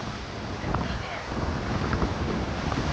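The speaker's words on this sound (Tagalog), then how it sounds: "Yung hangin. Ayan. Lakas na ng alon." Strong wind buffets the microphone while waves roll in at a beach at Station 1 in Boracay, Aklan, as a typhoon approaches near high tide, making a steady loud roar with no clear breaks.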